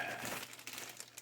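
A plastic bag holding sprues for a Revell 1/48 scale F-4J Phantom II model kit crinkles and rustles close by, a brief, continuous crackle of handled plastic.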